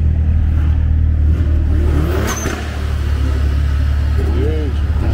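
More than 100 Mercedes-AMG cars at a car meet revving at full throttle at once fill the air with a loud, deep engine rumble, with some rising revs and voices talking over the din.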